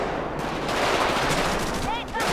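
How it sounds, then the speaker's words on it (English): Gunfire rattles in GTA 5 with the LSPDFR police mod, a dense, continuous burst of rapid shots close at hand that runs the whole stretch, with faint radio-like chatter underneath. "Oh, shots fired."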